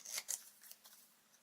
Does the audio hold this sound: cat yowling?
no